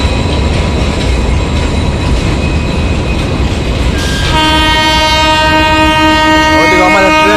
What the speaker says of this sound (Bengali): আমাদের ট্রেন রাঁচি আসানসোল, আর এটা ডিজেল ইঞ্জিন, ওই জন্য এত আওয়াজ